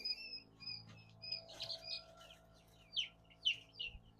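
Day-old barred rock chick giving a handful of thin, high cheeps, close but soft, with a faint low hum underneath and no talking.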